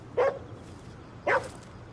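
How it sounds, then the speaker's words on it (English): A dog barks in the video game Ghostwire: Tokyo, two short, sharp barks about a second apart, fairly close and clear over a quiet background. "We have a pet dog here."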